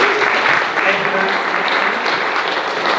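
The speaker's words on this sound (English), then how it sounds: "Please give him a round of applause." An audience at a Texas Right to Life event breaks into a steady, full round of applause, dense clapping filling the room from start to finish with a few voices under it.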